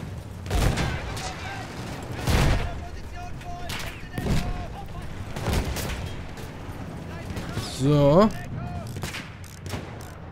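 Gunfire aimed at a tank in the video game Battlefield 1, with repeated bursts of shots and booms scattered across the battle, mixed with a voice talking over it.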